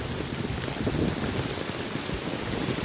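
Steady heavy rain pours down on a market street in Gujarat, a dense even hiss of drops on surfaces that stays constant throughout with no voices.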